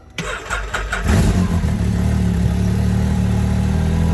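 A custom Can-Am X3 side-by-side engine cranks for about a second, then catches and settles into a steady, loud, rumbling idle close by.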